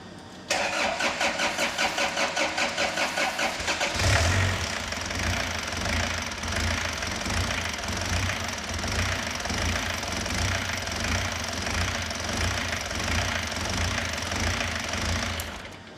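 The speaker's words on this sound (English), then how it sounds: "Ether can be sprayed into the intake manifold while the engine is being cranked over." A diesel engine is cranked with a fast, rhythmic churning for a few seconds, then catches and settles into a loud, steady running drone.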